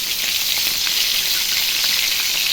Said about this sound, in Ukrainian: Сестра смажить рибку.